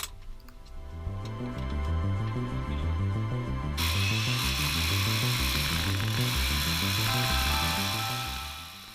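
A power drill bores holes into cave rock for placing straw-type charges, a close, steady grinding hum pulsing in a regular rhythm, with a brighter, harsher bite joining partway through.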